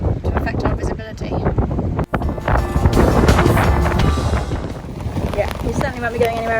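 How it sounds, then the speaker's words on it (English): Strong wind buffets a sailboat in a rising squall, gusty rushing noise and microphone rumble swelling and easing, with people talking over it. "Wind has just kicked in"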